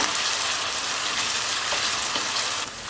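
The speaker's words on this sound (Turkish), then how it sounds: "Soğanları kavrulmasını sağlayacağım." Onions sautéing in a hot pan, a steady close sizzle and crackle of frying that runs continuously for a few seconds with no talk over it.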